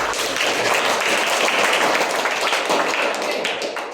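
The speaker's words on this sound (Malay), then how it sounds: "Tepuk tangan." Children clapping their hands together in a classroom, a dense burst of claps sustained and fairly loud throughout with a few voices mixed in.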